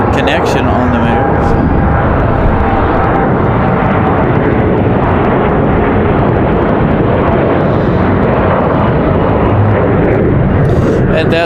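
A Delta Connection jet moves on the ground at Raleigh-Durham International Airport on a windy day. A loud, steady, unbroken roar fills the whole stretch, heavily buffeted by wind, and no one talks.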